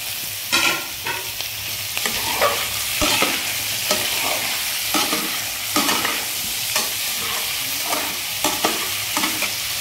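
Vegetables and tomato fry in a pan for spicy Punjabi khichuri, a steady sizzle broken by repeated scraping stirs of a spoon, close and loud with no talking.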